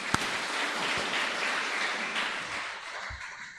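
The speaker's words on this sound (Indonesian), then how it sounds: "berikanlah tepuk tangan untuk Tuhan" A church congregation applauds during a Sunday evening service, a steady wash of clapping heard at moderate distance, with no talk over it.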